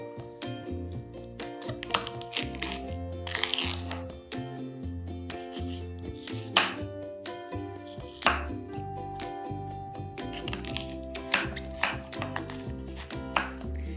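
Knife chopping hard, crunchy celery stalks into small pieces on a board, a series of crisp, irregular cuts close by under steady background music.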